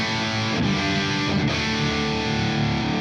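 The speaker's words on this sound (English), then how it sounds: "So we're now in the dirty channel of the Angle, which sounds like this." A heavily distorted electric guitar chord rings out through an amp, thick and buzzing, with a couple of quick re-strikes and sustained crunch.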